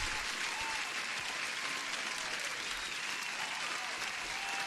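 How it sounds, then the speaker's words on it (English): Steady, dense applause from a sizable crowd, continuous and fairly loud throughout with no breaks. "Huge welcome, and applause to Meldan."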